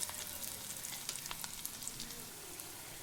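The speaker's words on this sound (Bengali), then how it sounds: "তো তেলের উপর আমি একটু লাল লাল করে ভেজে নেব" Potatoes frying in hot oil until reddish-brown, a continuous bright sizzle with scattered pops and crackles, close and steady with no talking.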